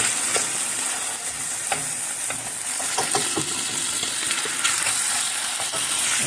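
Beef tibs with black pepper frying in a pan, stirred steadily: a continuous loud sizzle with scattered clicks and scrapes of the utensil against the pan throughout, no talking.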